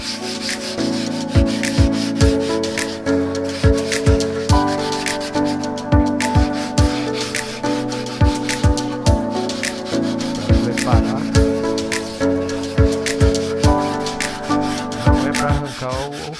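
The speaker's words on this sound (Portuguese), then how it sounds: "lixar essa parte e vou lixar o tanque também, né?" Used sandpaper rubbed by hand over a motorcycle fuel tank, a loud, close rasping scrape in steady back-and-forth strokes about once a second, with faint background music underneath.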